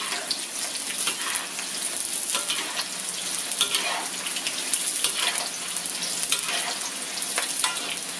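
Onions sizzle steadily in used cooking oil, a dense, bright, continuous frying hiss that stays loud and close throughout, with faint stirring and no voices.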